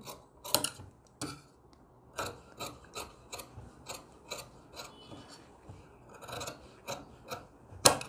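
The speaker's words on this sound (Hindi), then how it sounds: "इसको मैं हल्का सा एक सूत के हिसाब से इसका मार्जिन काटूंगा ऐसे करके" Scissors snip through the fabric margin of a stitched designer gown in a quiet room, a series of short, crisp cuts that come at an irregular pace and sound close by, with one louder snip near the end.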